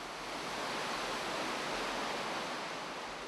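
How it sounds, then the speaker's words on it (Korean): Large, tall waterfall at Batad village in the Philippines, a dense, steady roar of rushing water heard close and loud, unbroken for the whole stretch. "우리가 거대한 물소리를 쫓아 도착한 곳은 바타디의 폭포 앞."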